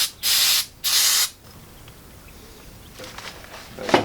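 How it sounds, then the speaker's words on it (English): Brake cleaner sprays in two loud, close hissing bursts into carburetor passages during a 1974 Leyland P76 V8 carburetor rebuild, followed by quieter handling clicks and a faint shorter hiss. "So, chase it with brake cleaner."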